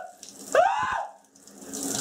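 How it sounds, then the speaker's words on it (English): A shower is turned on with a short squeaky tap sound, followed by running water hissing at close range that fades and then builds again. "Alright, we'll have a shower now."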